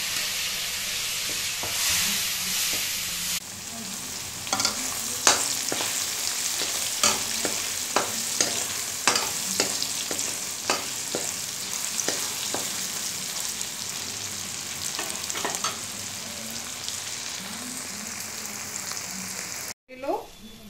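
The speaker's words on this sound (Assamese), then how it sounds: "পনীৰখিনি অকণমান ভাজি ল'লোঁ।" Cubes of paneer fry in hot oil in a pan with dry chillies, bay leaf and onion, giving a steady sizzle broken by repeated scrapes and clinks of a stirring spoon, close up and with no talking.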